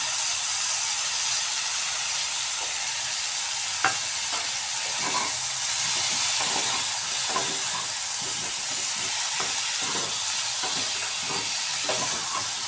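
Water-mixed spice paste going into cauliflower and potatoes in a hot pan: a constant hiss of steam and frying, with soft repeated stirring scrapes and a faint clack, steady and fairly loud, no speech.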